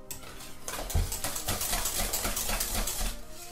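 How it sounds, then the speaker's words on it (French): A handheld immersion blender whirs steadily in a pot of cream for Paris-Brest, a continuous motorized churning with clinks and sloshing as the blade moves through thick liquid. "donner un petit coup de mixeur plongeant"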